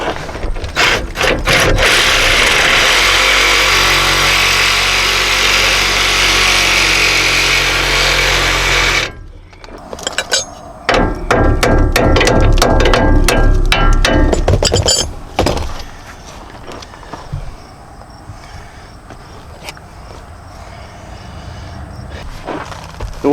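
A power tool cuts loudly through the bolt of a sway bar end link on a Nissan Titan, a steady grinding buzz for several seconds that stops, then resumes in a second harsh burst before quieter clatter and handling noises.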